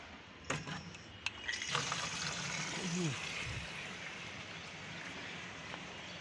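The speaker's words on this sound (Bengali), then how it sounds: "এখন গাছগুলারে পানি দিতে হবে" Potted plants on a rooftop garden are watered, giving a steady, faint rush of pouring water after a couple of light knocks, with a brief murmur of a voice partway through.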